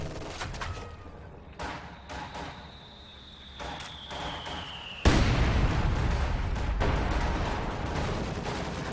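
Close-range ZiS field gun barrage in Company of Heroes 2, a dense run of booming artillery blasts and crackling impacts, growing louder and heavier partway through with continuous rumbling gunfire.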